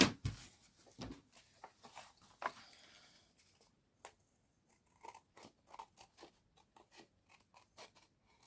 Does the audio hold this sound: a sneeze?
no